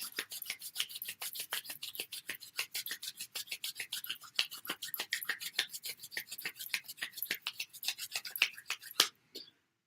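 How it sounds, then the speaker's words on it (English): Palms of the hands rub briskly together in a steady run of quick rasping strokes, close and fairly quiet, with no voice over it, during a Reiki meditation session. "you can start rubbing the palms of your hands together, creating friction and heat"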